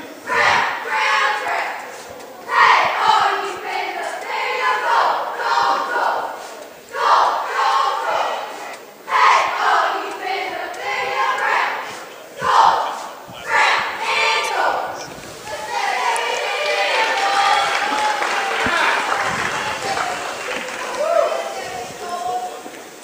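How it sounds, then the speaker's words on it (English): High school cheerleaders chant rhythmic shouted cheers in a gym at a basketball game halftime, loud repeated bursts with claps and stomps, followed by a crowd murmur. "Good job by the East Union cheerleaders, cheering on the urchins here at halftime."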